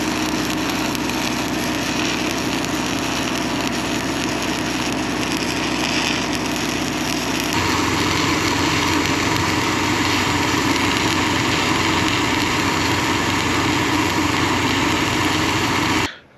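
Engine-driven welder running steadily while stick welding a beat-up John Deere 724K loader bucket, a loud continuous engine drone with a slight shift in tone about halfway through, no talk.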